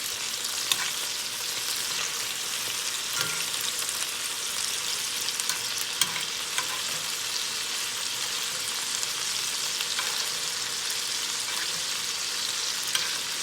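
Venison steak fries in a pan while being glazed with butter, a steady broadband sizzle holding even and close throughout, with a few faint clinks and scrapes and no voices.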